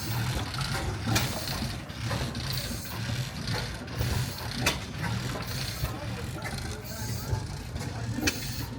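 Vacuum pumps inside an oil-field building pull oil, gas and brine-laden produced water up from a wellhead pipe, giving off a steady, dense mechanical clatter with sharp periodic ticks close by.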